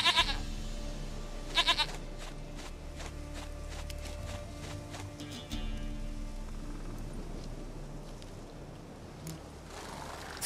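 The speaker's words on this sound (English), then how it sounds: "Goat of mine, dearest, sweetest goat." A goat bleats a few times in The Witcher 3: Wild Hunt, a couple of loud nasal cries at the start followed by softer bleats and footsteps over a low game soundscape.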